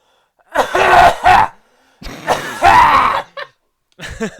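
A few rough coughs and throat-clearing rasps in quick bursts, close and loud, with short pauses between them.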